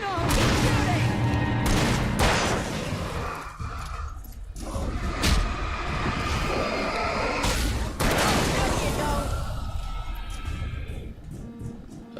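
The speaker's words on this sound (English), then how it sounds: "she's only using a shotgun that seemingly has unlimited ammo" Shotgun blasts in the video game Alan Wake, a series of loud booming shots spaced a couple of seconds apart over dense game noise and rumble.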